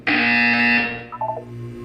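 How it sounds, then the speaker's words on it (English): A loud, sustained electronic buzzer tone in the Portal 2 video game holds for about a second, then cuts off, followed by a few short softer beeps. "You will hear a buzzer."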